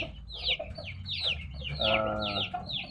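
Chickens cluck repeatedly in short, sharp bursts close by, with a rooster-like call mixed in over a low background rumble.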